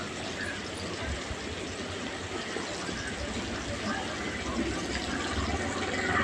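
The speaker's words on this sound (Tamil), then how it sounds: "இந்த ஸ்டேஜில் வந்து கழுவி வச்சுருக்கிற மீனை நான் சேர்த்துக்கிறேன்" Washed fish goes into a pot of boiling ground-masala fish curry, with a steady bubbling, watery hiss running continuously at moderate level.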